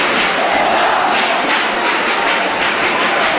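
Spectators in a football stadium at a 1998 UEFA Cup match between Celta Vigo and Aston Villa make a dense, sustained roar, a broad wash of crowd noise that stays loud throughout without any other voices standing out.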